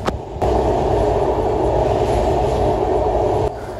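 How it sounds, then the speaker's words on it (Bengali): Passenger train running on the line to Mawa ghat, a steady loud rumble of wheels and carriage noise heard from inside, continuous with a brief dip at the start and end. "ট্রেন জার্নিতে জানালার পাশে সিট পড়লে আপনার অনেক ভালোই লাগবে"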